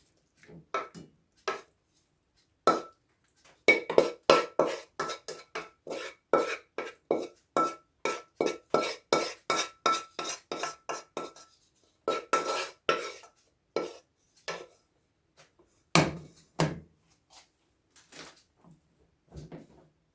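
Stir-fried egg with squid is served onto a plate with a long run of rhythmic metal spatula scrapes and clinks against a pan, close and fairly loud, slowing into sparser knocks toward the end.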